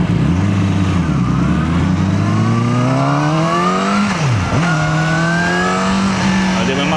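A loud Kove 450R motorcycle engine revs and climbs steadily in pitch, dips briefly, then pulls up again, close and continuous.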